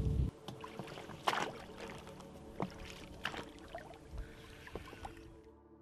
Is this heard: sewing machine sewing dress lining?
no